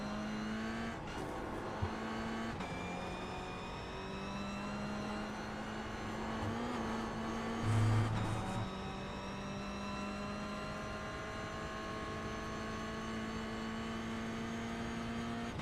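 A Toyota GR86 Cup race car in iRacing at Oulton Park Circuit, with its engine droning steadily and shifting pitch through gear changes as it accelerates and slows, heard alone without voices.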